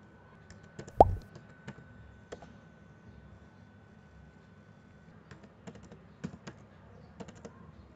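Keys clatter on a computer keyboard as a Wi-Fi network ID and password are typed, beginning with one sharp knock, then scattered light clicks and short bursts of keystrokes, close and fairly quiet against a faint background hum.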